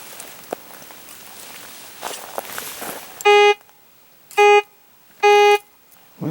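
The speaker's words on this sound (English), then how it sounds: "So I'll get that metal detector out and start looking." Faint rustling and scraping, then three loud electronic metal detector beeps spaced about a second apart, each a sustained buzzy tone, while camping in Lincoln National Forest.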